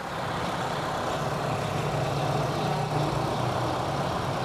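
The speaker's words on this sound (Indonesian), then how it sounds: "Dan ini untuk suara mesinnya." A 2003 Honda City with an i-Dsi engine idles steadily, a continuous low hum with an even, faint rumble that holds at a constant level throughout.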